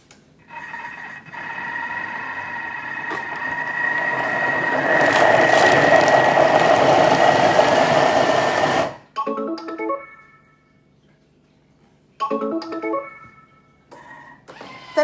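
A food processor blends a red lentil and cashew spread at speed 5, whirring loudly and steadily for several seconds before stopping abruptly, followed by a few brief clicks and short beeps.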